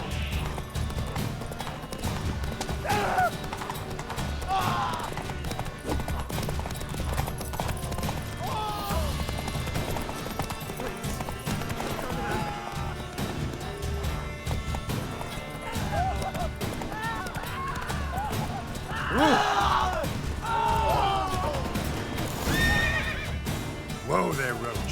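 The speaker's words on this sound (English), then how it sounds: "Whoa there, Roach" A horse in The Witcher 3 video game gallops with rhythmic clip-clop hoofbeats and neighs several times, heard alongside game music, effects and character speech throughout.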